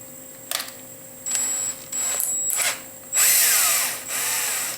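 An electric drill holding a small steel nub in its chuck whirs in several short bursts, starting and stopping, the last burst longest and loudest, close by with no talking.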